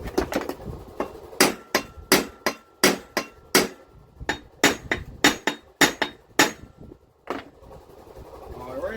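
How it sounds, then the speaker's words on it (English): Lump hammer driving a chisel on a Wheel Horse cutter deck, struck in a steady run of about twenty sharp metallic blows with short pauses, close and loud, with background noise between strikes. "lump hammer and a chisel."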